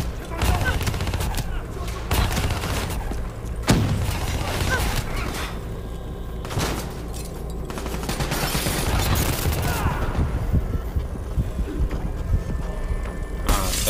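Gunfire from the video game Call of Duty: Black Ops 3: repeated bursts of automatic fire and sharp shots cracking out in quick succession across the whole stretch, loud and close, with some voices mixed in.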